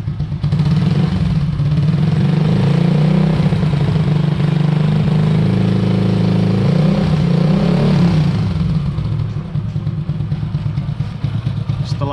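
A motorcycle engine runs loud and close during a carburetor throttle test, a continuous low rumble with the revs rising and settling over several seconds before easing back toward idle.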